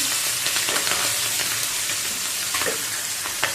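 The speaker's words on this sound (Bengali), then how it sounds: "মাছটা আমি ভাজা ভেজে নিই" Hilsa fish fries in oil with a continuous close sizzle and crackle, plus a few light scrapes of stirring, and no one speaking.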